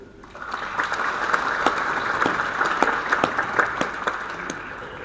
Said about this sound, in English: A better round of applause, ladies and gentlemen, for the Honorable Minister of Finance.